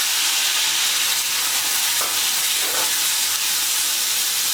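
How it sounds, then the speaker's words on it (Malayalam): Crushed shallots hitting hot oil left from frying dried prawns, a loud, dense, continuous sizzle and hiss close up, with faint stirring and no voices. "ഇതേ എണ്ണയിലേക്ക് തന്നെയാണ് നമ്മൾ ചതച്ച് വെച്ചിരിക്കുന്ന ഉള്ളി ചേർക്കുന്നത്"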